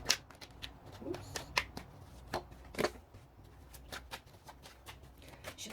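Tarot cards being shuffled by hand, a steady run of crisp riffling snaps and papery slaps, close and fairly quiet, with no talking.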